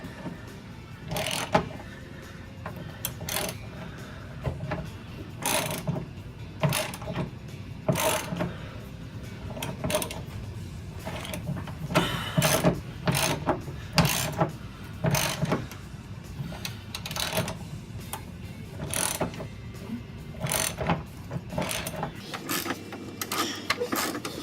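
A ratchet wrench clicks steadily as a bolt is worked loose while a car's fuel pump is replaced in a garage, a close, rhythmic series of short ratcheting strokes with brief gaps and no talking.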